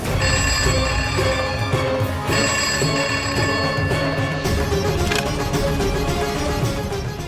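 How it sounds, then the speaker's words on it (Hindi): A telephone rings loudly in repeated bursts, its electronic bell tone sounding over a dense layer of background music. "उनका फोन फिर से आएगा"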